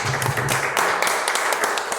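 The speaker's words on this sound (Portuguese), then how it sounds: "pode agradecer o Senhor com a salva de palmas" A church congregation gives a round of applause during a worship service, a dense, steady wash of many hands clapping at once that fills the room.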